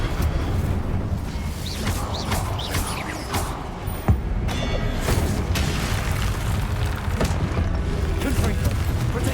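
A fire spell cast in Hogwarts Legacy, amid a busy, loud mix of game effects with a sharp burst near the middle over continuous rumble and clatter.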